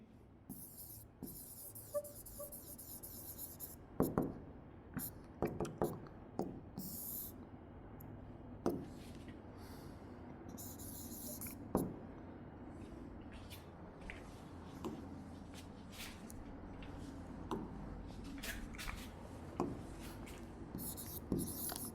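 Pen or marker writing on paper or a board during a Class 9 coordinate geometry lesson, steady scratchy strokes with sharper taps across the span, fairly close and quiet, with no talking over it.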